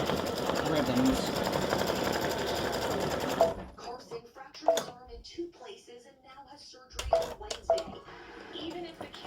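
An embroidery machine stitches a breast cancer awareness mug rug in bright pink thread, whirring in a fast, steady rhythm for a few seconds before stopping, followed by quieter clicks and handling noises.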